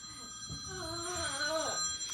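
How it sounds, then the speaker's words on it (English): Phone ringing with a warbling electronic ring tone that rises and falls for about two seconds, moderately close over faint room noise. "And there's my phone."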